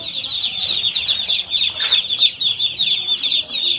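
Young chicks on a poultry farm, kept behind a curtain, fill the space with dense, high continuous peeping, many birds at once, with a few louder bursts standing out.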